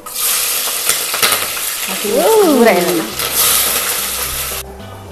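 Loud, steady sizzling of onions frying in hot oil, with stirring scrapes and a brief utensil squeak partway through.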